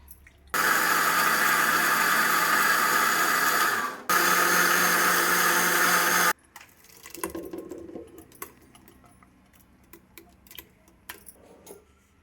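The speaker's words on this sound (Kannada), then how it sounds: "ಈ ಥರ ಈ ಜಾರ್ಗೆ ಆಡಿಸ್ಕೊತಾವ್ರು ನೋಡಿ" A mixer grinder jar grinds a spice mixture of chillies, coriander powder, onion and cinnamon, a loud steady whir in two bursts with a short break between, then clattering and faint handling noises after it stops.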